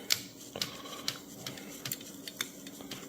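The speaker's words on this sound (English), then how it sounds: "I'm tightening it here to try to keep the ribbon" Ribbon spool on a Corona 3 typewriter being tightened and wound, giving a string of small, close, sharp mechanical clicks and ticks at irregular intervals over a faint background.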